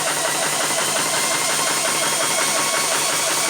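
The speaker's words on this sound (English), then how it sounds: "Let's start this compressor." A Vevor PCP 4500 PSI high-pressure air compressor runs with a steady, loud, dense mechanical drone and rapid pulsing chatter, continuous throughout with no pauses.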